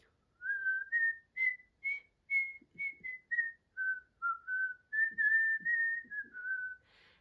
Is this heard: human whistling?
yes